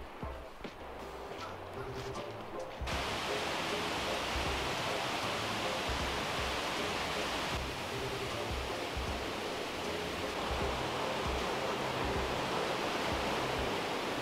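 A jungle waterfall in Chiang Rai roars as a steady broadband rush, growing louder and fuller after the first few seconds and holding constant, with no talk over it.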